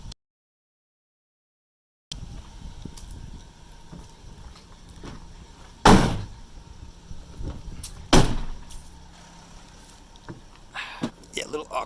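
Rear doors of a new Mercedes-Benz Sprinter van swing open wide to about 180 degrees, with two distinct loud thuds and clunks a couple of seconds apart over outdoor wind noise, with speech nearby.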